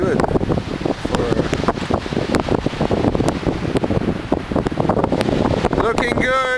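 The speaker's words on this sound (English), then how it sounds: "I see the wind has picked up a little bit" Strong wind near Saint John, New Brunswick, on a March day, roaring and buffeting loudly into the microphone throughout, with a voice speaking over it.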